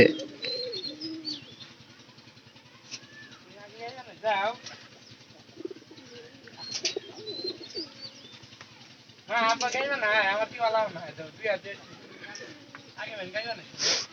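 Pigeons in a loft cooing repeatedly in soft, rolling calls, with occasional wing flaps, close by and continuous while a person talks over them.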